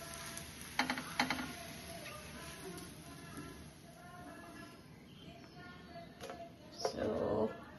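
A khara dosa sizzles quietly on a hot pan while being flipped, with a soft steady fry hiss and a few sharp scraping and clattering touches from the spatula, the last one louder and longer.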